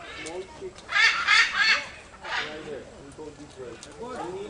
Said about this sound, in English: That's a smart bird.